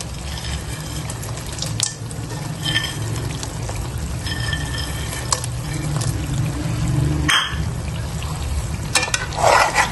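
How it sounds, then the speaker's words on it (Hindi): Dry fruits going into makhandi halwa frying in a pan, a loud continuous sizzle and bubbling with stirring scrapes and a few clinks, steady throughout. "ड्राई फ्रूट्स डाल रही हूँ अब मैं।"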